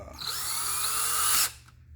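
A cordless drill tightens screws on an electrical outlet extension. Its motor whirs steadily and close for about a second and a half, then cuts off, leaving quiet handling noise.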